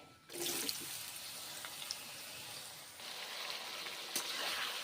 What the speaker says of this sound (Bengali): ঝিঙ্গে এখন গরম তেলে ভেজে নিচ্ছি